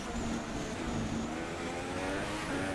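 High-pitched whine of a Formula 1 car engine in the F1 2016 game during wet qualifying at the Singapore Grand Prix, steady and continuous with slight pitch shifts under a rain-like hiss.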